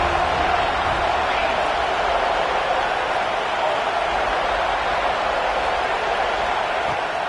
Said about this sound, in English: the home crowd going absolutely bananas